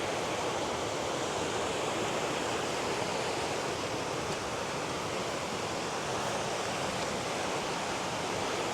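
Mountain stream in the Tatra hills rushing downhill, a dense, steady broadband wash of flowing water, close and unbroken with no voices.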